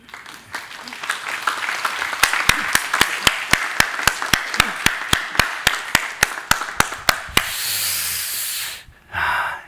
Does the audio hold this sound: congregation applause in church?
yes